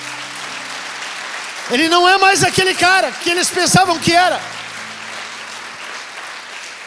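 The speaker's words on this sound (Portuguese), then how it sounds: "Você pode aplaudir Jesus por isso?" A church congregation at a Portuguese-language sermon on the resurrection applauds for about three seconds, loud and close, while the preacher keeps speaking over the clapping.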